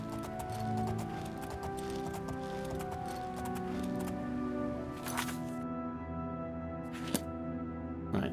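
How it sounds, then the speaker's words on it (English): Horse hooves clip-clop steadily on a treacherous ride in the video game Oblivion, a continuous rhythmic trot over game music. "This is a treacherous ride for the horse."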